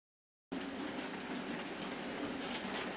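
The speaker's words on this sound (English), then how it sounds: "that's the pickup freight southbound" A southbound pickup freight train rumbles past steadily after a brief silence, a continuous broad roar with faint rhythmic wheel clatter, moderately distant and without any voices.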